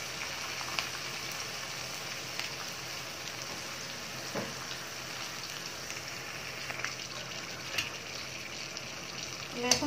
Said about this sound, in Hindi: लहसुन अच्छे से भून गया है, गर्म हो गया है